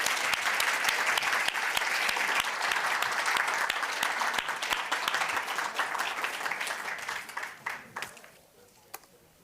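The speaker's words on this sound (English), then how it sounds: "thank you and applause for them." Conference audience applauding panelists after an early childhood education research session: a full burst of many hands clapping that gradually thins out, ending in a few scattered, separate claps.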